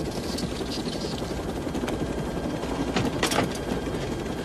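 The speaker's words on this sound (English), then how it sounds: "I can fly a helicopter." A helicopter's rotor chops steadily and loudly throughout, a continuous mechanical whir with a few brief clanks over it.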